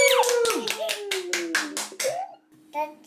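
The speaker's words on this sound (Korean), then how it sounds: "박수!" A child and adult clap hands in quick, sharp bursts around a toddler's pretend birthday celebration at home, with singing voices over and between the claps before a brief pause and a last short clap.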